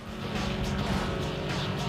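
Engine of the Fox car in the racing video game Need for Speed Underground 2, a brief continuous roar with a hint of tire noise, fairly loud and without speech.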